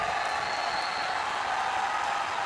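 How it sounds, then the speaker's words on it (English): Crowd noise from spectators at an arena football game in The Arena League: a steady, dense wash of cheering and clapping that holds at an even level without breaks. "Crowd really into this one"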